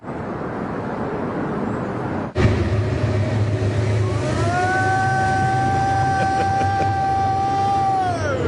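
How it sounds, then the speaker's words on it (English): A passing train gives a loud, continuous rumble that jumps up abruptly, then sustained horn-like tones swell in partway through and fade near the end. "Oh, that's a train."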